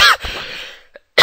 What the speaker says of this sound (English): Oh, sorry for that cough.